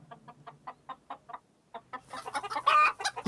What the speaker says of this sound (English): Lots of hens.